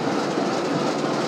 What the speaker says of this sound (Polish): Oto nasz pociąg. Niech jedzie